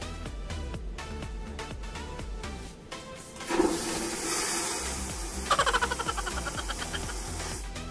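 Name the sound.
airplane lavatory toilet flush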